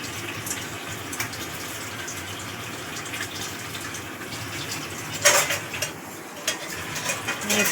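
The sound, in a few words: water rinsing out a mixer grinder jar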